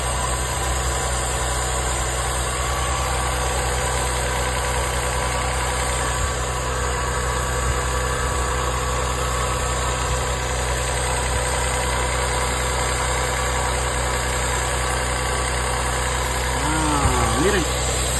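A Toyota Sienna minivan's engine idles high and rough, its steady loud drone running unbroken under talk in Spanish.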